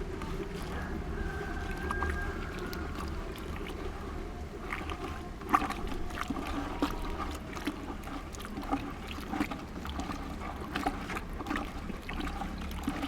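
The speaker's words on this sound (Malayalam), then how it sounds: "ഇതിനകത്തോട്ട് നമുക്ക് വെള്ളം ഒഴിച്ച് കൊടുക്കാം. നമുക്ക് നല്ലതുപോലെ കലക്കാം." Water pours and sloshes as it is stirred into a jaiva slurry of fresh cow dung, a continuous watery trickle and swirl with soft splashes, moderately close.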